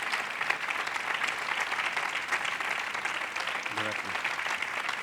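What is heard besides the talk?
audience applause at literary awards ceremony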